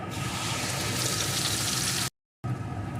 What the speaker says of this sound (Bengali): এখন বাটারটা সম্পূর্ণ গলে গেছে আর দিয়ে দেব যে মশলাটা আমি পেস্ট করে রেখেছিলাম সেই মশলাটা